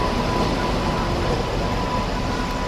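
The Haripriya Express train, near Tirupati on a route via Kadapa, passes as a steady, loud, broadband rumble with an even hum that holds throughout, with no voices over it.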